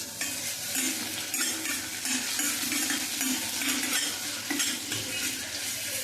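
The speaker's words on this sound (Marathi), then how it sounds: "त्यात आलं, लसूण आणि एक मिरची ठेचून घेतली आहे. ती आपण आता ह्याच्यात व्यवस्थित परतून घेऊया." Crushed ginger, garlic and a chili sautéing in butter in a pan, a soft even sizzle with repeated scraping strokes of a spoon against the metal, close and without speech.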